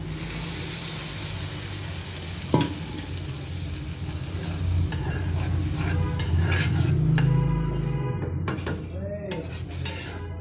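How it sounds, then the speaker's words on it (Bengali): Spices with chilli powder, salt, coriander and a little water sizzle and fry in a pan with steady hiss, punctuated by scraping stirs and a few sharp clinks of a utensil against metal, before dried fish is added. "সামান্য একটু পানি দিয়ে দিব মশলাটা কষানোর জন্য।"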